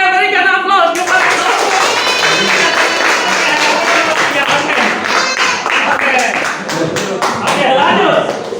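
A class applauding, many hands clapping steadily and close by for several seconds, with voices chattering and laughing underneath.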